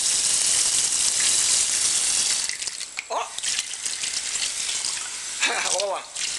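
Steady rushing water pours loudly and continuously, with a child's and adult's voices briefly heard over the flow.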